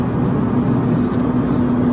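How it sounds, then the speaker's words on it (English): A car cruises along a three-lane Canadian highway, giving a loud, steady road roar with a constant low engine drone that never lets up. "Wow, Canadian highway. 3-lane highway."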